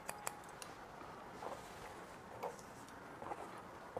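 Scissors trimming a short men's haircut, soft light snips scattered quietly through a faint steady background hiss, with no voices.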